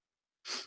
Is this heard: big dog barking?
no